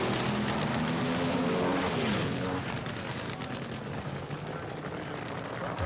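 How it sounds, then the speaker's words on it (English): A Top Fuel dragster engine blows up on the starting line during qualifying at a drag strip, a sustained loud blast and roar that swells and then slowly eases off, with faint commentary underneath. "Frank Cook in qualifying grenaded an engine on the starting line"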